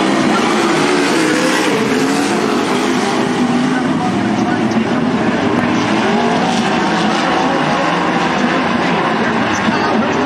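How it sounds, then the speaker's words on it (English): Winged sprint cars roaring off at the green flag start at Southern Oregon Speedway during an ASCS Northwest Region race, a dense, continuous loud engine drone from the pack, with an announcer talking over it. "the veteran driver Jeremy Lowe, side by side, wing to wing, wheel to wheel, the way they gotta be. Green flag in the air."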